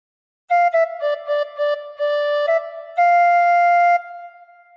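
A recorder plays a short phrase of Joy to the World, clear breathy notes stepping downward in a simple rhythm and ending on a longer held tone, solo and close with no talking.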